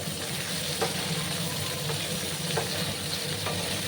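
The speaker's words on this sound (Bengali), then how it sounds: "একটু লাল লাল করে আমি ঢেঁড়সগুলোকে ভেজে নেব" Okra fries in a pan with a pinch of turmeric, giving a continuous soft sizzle and hiss with a few faint stirring taps.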